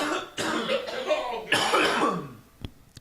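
A couple of throaty coughs and throat-clearing sounds up close, rough bursts followed by a sharp short click near the end.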